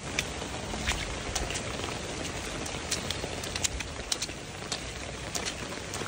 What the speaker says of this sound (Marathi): पाऊस आणखी पण चालूच आहे